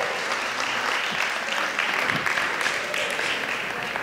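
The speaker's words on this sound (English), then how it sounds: "Now give them a good round of applause." A church congregation claps in a steady, dense wash of applause, continuous and even throughout the short stretch with no talk over it.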